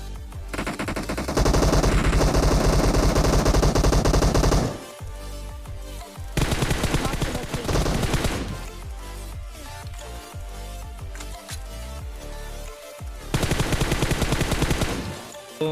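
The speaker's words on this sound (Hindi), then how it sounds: "तभी मेरे पे पीछे से फायर होता है" Automatic gunfire in the PUBG Mobile KR version battle game, loud sustained bursts of rapid machine-gun fire with short breaks between volleys, several long sprays close to the listener.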